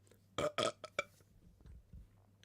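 A single loud burp in two quick bursts, followed by a few faint clicks and low rumbles in a quiet room.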